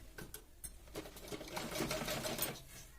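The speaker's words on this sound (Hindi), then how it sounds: "सबसे पहले हम नीचे एक सिलाई लगा लेंगे" A sewing machine stitches a princess cut blouse in a quick, steady mechanical run with a few short starts, close and moderately loud, with no talking.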